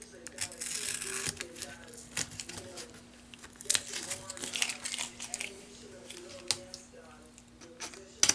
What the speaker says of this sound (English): Let me get these side pieces of tape off of here.